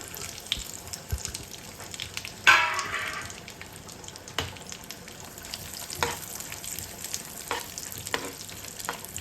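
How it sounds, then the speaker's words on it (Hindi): Chopped dry fruit frying in a pan for chana dal barfi, a steady soft sizzle with occasional scrapes and stirring clicks from close by. "तो ये ड्राई फ्रूट मैं यहाँ पे डालूंगी।"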